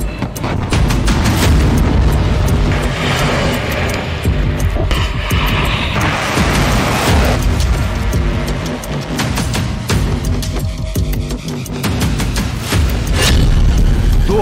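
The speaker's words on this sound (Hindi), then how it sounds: "इस्कंदर के धरती फाड़ धमाके।" Iskander missile strikes produce heavy, continuous rumbling explosions that roar loudly and without pause across the whole stretch, dense and distorted, with no voices.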